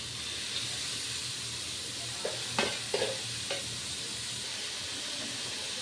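Vegetables and chopped garlic fry for vegetable fried rice, giving a steady hissing sizzle with a few brief spatula clinks near the middle, quiet and close with no speech.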